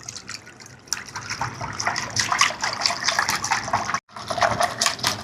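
Liquid sloshing and splashing steadily as milk is mixed into eggs for egg pudding, close and continuous with a brief break near the end.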